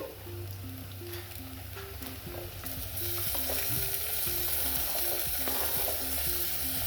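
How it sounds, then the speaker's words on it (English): Tomatoes fry with golden-brown onions in a pan, giving a continuous sizzle with stirring noises that grows noticeably louder and brighter partway through, while a faint repeating tonal pattern runs in the background. "So my tomatoes cook for 2 to 3 minutes until they are done."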